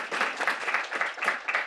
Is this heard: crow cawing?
no